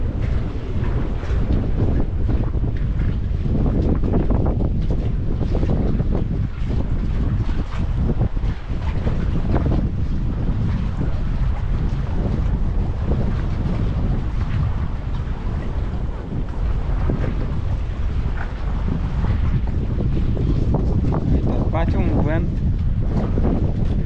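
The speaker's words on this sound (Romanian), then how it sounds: "Așa mai sufru un vânt rece" Strong wind buffets the microphone in a continuous loud rumble with gusty surges, drowning out everything else throughout.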